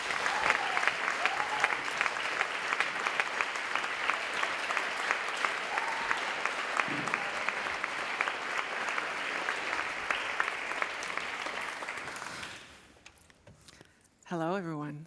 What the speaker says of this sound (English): Give them a big applause.